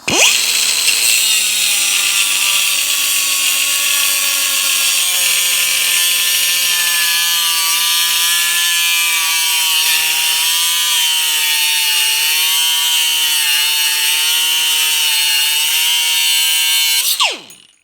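An angle grinder fitted with a 4-inch cut-off wheel cuts steadily for about sixteen seconds, a loud, sustained high-pitched whine that drops away at the end.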